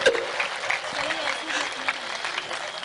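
Audience applause at a Hindi comedy poetry gathering, a steady wash of clapping that runs the whole time, moderately loud, with a voice briefly audible over it.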